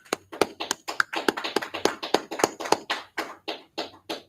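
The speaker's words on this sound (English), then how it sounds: "Let's clap it up." A group of people clapping hands in a brotherhood class gathering, a steady run of sharp claps, several overlapping, about three or four per second, loud and close with no talk.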